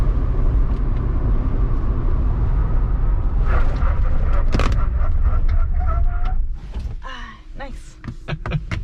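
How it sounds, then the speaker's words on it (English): Braking from 65 mph in a 2021 Jeep Wrangler 4xe Rubicon, heard from inside the cabin as steady road and tire roar that fades as the vehicle slows and stops, with people talking over it. "All right, y'all ready for a brake test?"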